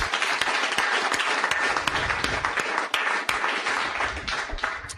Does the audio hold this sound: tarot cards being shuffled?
no